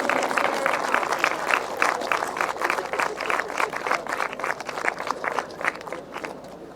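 Crowd applause at a British Masters grasstrack qualifier for the GTSA riders and crew, a steady outdoor clapping that continues throughout, with a few louder claps standing out near the front.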